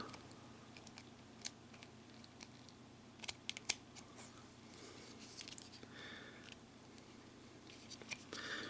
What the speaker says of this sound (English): I'm going to have to get the scissors to cut that